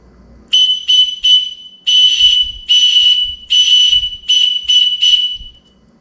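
A survival whistle sounds the distress signal as piercing high blasts: three short, three long, then three short, loud and close with brief gaps and no talking.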